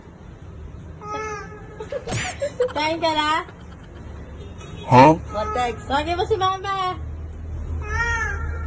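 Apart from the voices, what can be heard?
cat meowing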